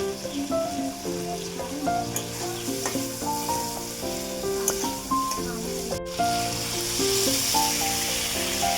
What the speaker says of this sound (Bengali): হালকা করে ভেজে তুলে নিতে হবে চিংড়ি মাছগুলো।